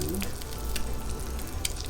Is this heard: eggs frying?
yes